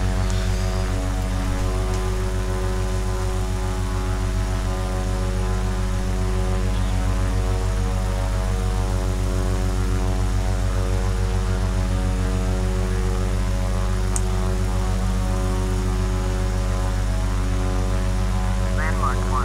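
Steady, loud drone of a Cessna Caravan single-engine turboprop in Microsoft Flight Simulator, a constant propeller hum with strong harmonics that holds unchanged throughout, with a voice talking faintly over it.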